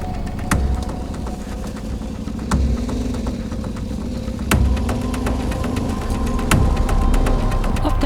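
Yamaha Tenere 700 rally-style motorbike engine running off-road, a steady mid-pitched throbbing drone with periodic sharp knocks or clunks every couple of seconds, close and fairly loud.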